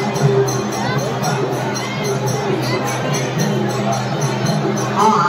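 A dense crowd mills around the main Lehada Devi temple, a steady close hubbub of many overlapping voices and movement that holds throughout with no single sound standing out.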